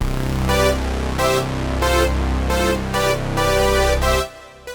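A brassy OBXD Oberheim-style synth patch, played as loud rhythmic stabs of a sustained chord that pulse on and off before stopping abruptly.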